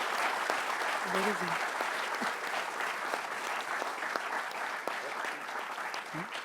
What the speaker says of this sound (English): I think we should just applaud him